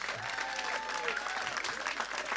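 An audience claps warmly at an event in a continuous dense patter, steady and fairly close, while a voice speaks over the top.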